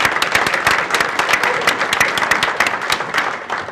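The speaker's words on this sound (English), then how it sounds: "I think that deserves a round of applause right there." A business audience applauds after a city official mentions a property tax rate held flat, steady dense clapping filling the room at close range throughout, with no voices rising above it.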